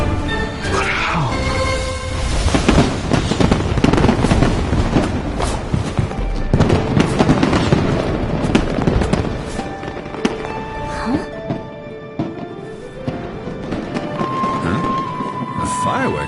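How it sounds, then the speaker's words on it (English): A fireworks show in Genshin Impact bursts with dense, overlapping booms and crackles that layer into a continuous loud roar alongside game music and effects. "Fireworks show?"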